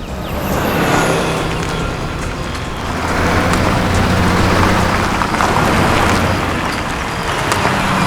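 A car is driven inside, its engine giving a steady low rumble with continuous road and tyre noise that swells slightly midway and holds without breaks.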